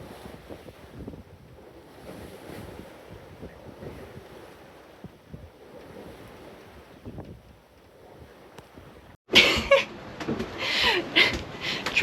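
A sailboat pounds through lumpy open-sea waves on a Balearics-to-Sardinia passage. Steady wind and water rush build to a much louder burst of wind and spray near the end, with no talking.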